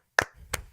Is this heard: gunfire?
no